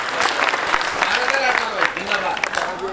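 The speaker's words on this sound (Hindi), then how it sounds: "मुझे इजाजत दे एक बार पूरा सदन जोरदार तालियां बजाए" Loud, sustained audience applause at a Hindi comic-satire poetry gathering (kavi sammelan), steady dense clapping throughout, with a voice briefly audible over it.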